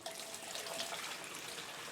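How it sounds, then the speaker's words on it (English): Gasoline poured from a can into a snow blower's fuel tank, a steady close liquid trickle with a bright hiss that runs unbroken for the whole stretch, no talking over it. "let's get to putting the gas in."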